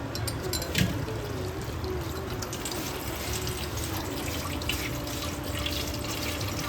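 Food is rinsed under a running kitchen tap, giving a steady, even rush of flowing water with light splashing throughout and no talking.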